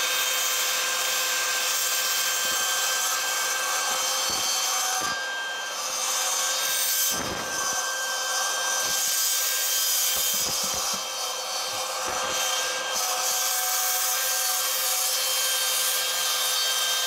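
A Hilti plunge saw set to about 22 mm depth cuts through clamped wood, giving a steady high-pitched whine with the buzzing rasp of the blade in the timber and a few brief dips and knocks along the cut.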